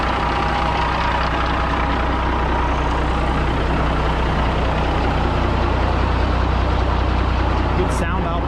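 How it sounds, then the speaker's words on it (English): A Kenworth K100E Aerodyne truck with a Caterpillar engine idles close by, a steady low diesel rumble running unbroken throughout, with a brief bird chirp near the end. "Nice and quiet. Love this cat engine."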